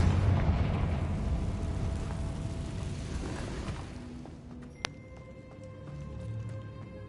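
A Confringo spell blast in Hogwarts Legacy booms loudly, then rolls into a fading rumble, followed by a sharp pop and ringing, shimmering tones as the scene settles.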